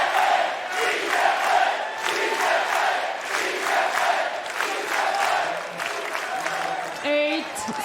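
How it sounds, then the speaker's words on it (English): Tennis crowd at the US Open roaring and cheering in a stadium, a sustained loud wash of voices and applause rising and falling, with a commentator speaking over it. "You can feel the energy through the screen from the crowd."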